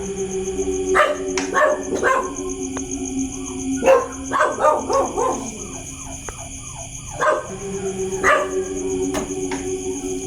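Several dogs outside a house at night let out bursts of barking and yelping, with a wavering howl in the middle, loud and fairly close over a steady electrical hum.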